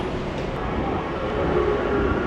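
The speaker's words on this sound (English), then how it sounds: "can you guys hear the train coming and the thunder rolling?" A steady, continuous low rumble of a train rolling past at a moderate distance, broadband and unbroken throughout with no talking.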